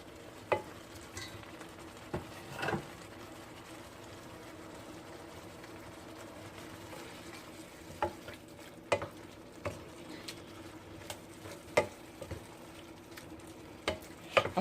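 Tomatoes and cilantro cook in a pan with a low, steady sizzle, and a utensil scrapes and taps through the food in sparse, soft bursts with no talking.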